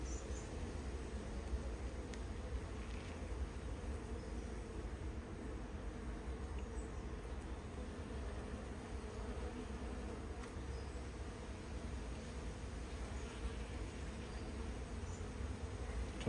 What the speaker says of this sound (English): All the robin bees are coming in now.